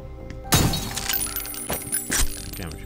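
Glass shatters in the first-person shooter Ion Fury: a loud crash and burst of breaking shards, followed by further impacts and debris over a steady game background.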